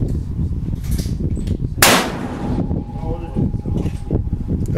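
A single loud crack from a 6.5 Swede rifle fired at a target 1,000 yards out, set amid steady talk and background noise on an outdoor range.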